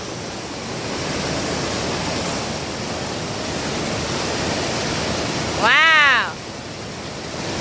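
Man-made river rapids built with big boulders at a whitewater competition course roar with a steady, loud rush of water throughout, and a voice briefly exclaims near the end.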